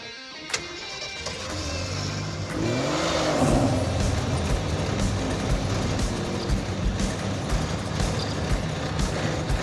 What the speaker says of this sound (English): We're gonna peel out, go find the hotel